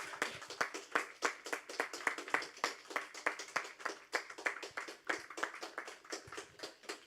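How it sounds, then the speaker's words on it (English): Participants at an international music and movement showcase event give hand-clapping applause, a modest group clapping in quick uneven bursts, fairly faint and distant, with no talking. "Can we have a big hand clap?"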